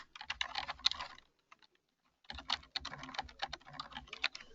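Close, brisk typing on a computer keyboard with dense clicking keystrokes in two bursts separated by a brief pause of near silence.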